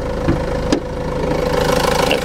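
A 2.2 HDI diesel car engine rated at 130 brake horsepower idles with the bonnet open, producing a close, steady low chugging hum with a faint knocking rhythm and one or two brief clicks over the top.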